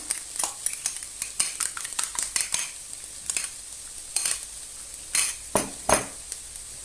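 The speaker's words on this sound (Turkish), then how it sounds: "İyice çırpıyorum." Eggs beaten with red pepper flakes, a utensil clinking rapidly and irregularly against a bowl in bursts of sharp metallic taps, close and fairly quiet.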